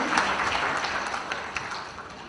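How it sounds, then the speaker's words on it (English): An audience at an eBihar e-governance event applauds the dignitaries on the dais, a moderate wash of clapping that slowly tapers off at a distance. "Can we have a huge round of applause for all the dignitaries?"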